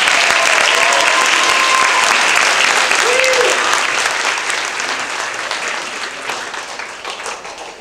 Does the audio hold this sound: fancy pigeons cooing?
no